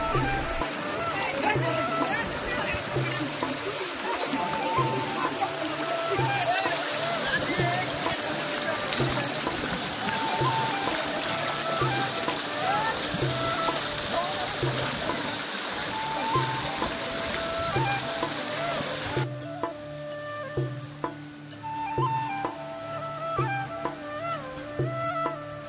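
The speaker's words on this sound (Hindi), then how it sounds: "अब गौर से इस पानी की आवाज़ सुनिए" Water rushes and gurgles steadily like a flowing hill stream near the Bhutan border in Assam, a continuous close wash with voices murmuring over it at times.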